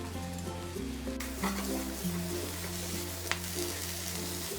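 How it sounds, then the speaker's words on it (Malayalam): Bread upma with mustard paste is stirred in a hot pan over a gas flame, giving a steady, soft sizzle of frying with a few faint scraping stirs throughout. "നന്നായിട്ടൊന്ന് ഇളക്കി കൊടുക്കാം."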